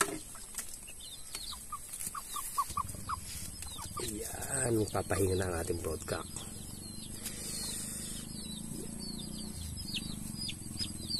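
Chickens at a backyard breeding station give soft, scattered clucks and short calls around someone speaking in Filipino, with a steady background hiss and a louder rustle of movement midway.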